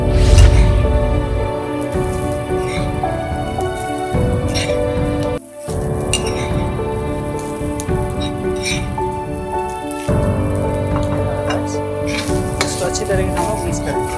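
Cooked rice being tipped into a hot pan and stir-fried for a kids' fried rice, a steady loud sizzle with scraping stirs and occasional clinks, continuous throughout with no talking.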